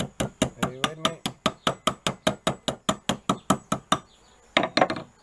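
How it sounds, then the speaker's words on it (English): A hammer striking sheet metal on an anvil in a fast, even series of about twenty sharp metallic blows, then a short pause before a few more quick strikes, with a voice briefly heard in between. "you go on with the softer hammer onto the metal again"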